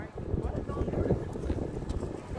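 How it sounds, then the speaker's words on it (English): Wind gusts buffet the microphone outdoors on a cold, exposed spot, a low rumbling roar over rustling, with people talking nearby. "It's windy up here."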